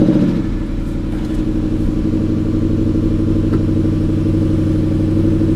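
A 2017 Chevy Camaro SS, jump-started after sitting at a salvage auction yard, running with a steady loud low engine rumble and a slight rise in revs early on, heard up close with no talking.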